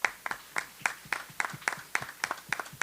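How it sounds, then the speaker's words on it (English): Applause from the audience at a senior symposium, sparse and rhythmic, a few people clapping in a steady beat at moderate loudness, close by. "Let's give Kevin a round of applause"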